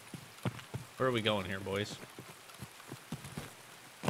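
Rain patters in Escape from Tarkov as a light, irregular ticking of drops on surfaces, with someone talking briefly partway through.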